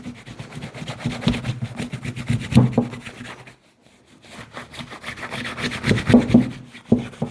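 A cloth rubs briskly over leather shoes, wiping off excess product, in quick repeated strokes with a brief pause midway; close and moderately loud.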